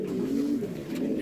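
Pigeons coo in low, rolling, repeated phrases close by, a steady murmuring flock sound with no speech over it.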